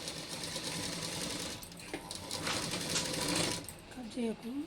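A sewing machine runs steadily while stitching around the lining of a baby frock, a continuous close whirring hum with light rhythmic ticking throughout.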